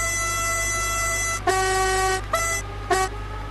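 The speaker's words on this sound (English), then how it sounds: "Let's get a wee blast of the horn. Not the high tone, let's get some low tones." Low-tone train horn in Train Sim World, sounded in three separate blasts: a long steady honk followed by two shorter toots, loud and close over a constant low engine rumble.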